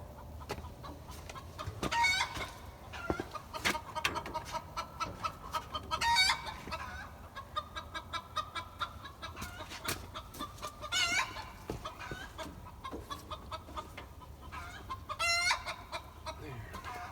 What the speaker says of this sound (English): My chickens are talking up a storm this morning.